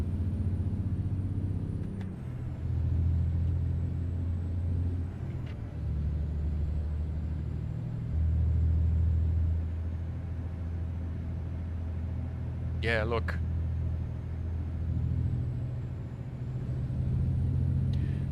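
A modded truck engine in a winter truck-driving video game rumbles steadily and deeply throughout, with a brief hiss-like burst near the end, while someone speaks a few words over it.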